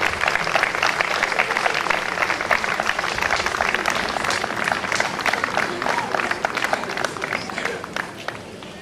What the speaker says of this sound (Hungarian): és a tapsot is, amivel köszöntöttek